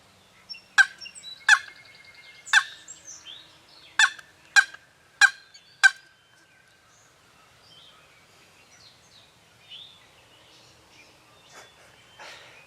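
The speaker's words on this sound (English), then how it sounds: "It sounded like they were going the other way, but they just gobbled again." Wild turkey gobblers call in a series of about seven sharp, rattling gobbles at a moderate distance during a spring hunt, then go quiet apart from faint birdsong.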